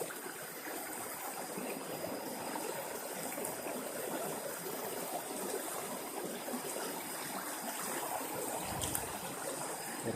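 A river stream runs over rocks, a steady, even rushing of water that holds at one level throughout, alone, with no voices.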